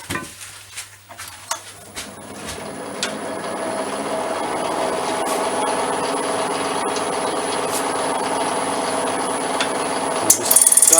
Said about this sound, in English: I'm just using the long ground ball gouge.